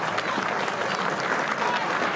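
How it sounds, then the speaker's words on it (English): A stadium crowd at a women's A-League football match between Canberra United and Adelaide United applauds steadily, a dense patter of clapping heard at moderate distance with faint crowd murmur underneath. "hence the applause from the crowd"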